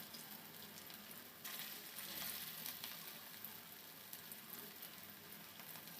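Cabbage frying in hot oil, a faint, even hiss of sizzling that swells briefly with stirring, heard without any talking.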